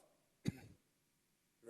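A single short cough sounds close in a quiet room during a COVID-19 information session. A faint start of another sound follows near the end.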